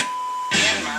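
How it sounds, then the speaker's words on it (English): A single electronic beep from the original AM radio in a 1966 Chevy C10 pickup, a thin steady tone that runs for about half a second before a louder burst of broadband hiss or static takes over. "just stop and it's going to beep once."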